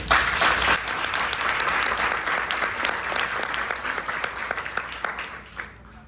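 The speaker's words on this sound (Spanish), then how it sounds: "Carlos Rodríguez, a quien quiero un aplauso para él" An audience applauds steadily for Carlos Rodríguez after he is introduced, a dense, sustained burst of clapping that fades slightly toward the end.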